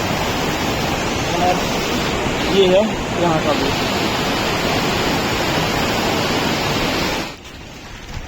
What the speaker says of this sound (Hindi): बाकी आवाज़ बहुत प्यारी लगती है पानी की